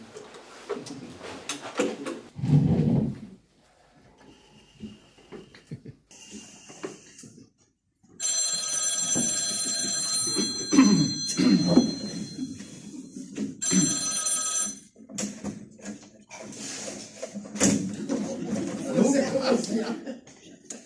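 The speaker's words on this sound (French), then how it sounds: "Je vais les appeler, moi. Alors, téléphone." A landline telephone rings in a French office comedy sketch, a steady electronic bell tone repeating for several seconds in the middle, with people talking before and after it and the ring sitting loud over brief voices.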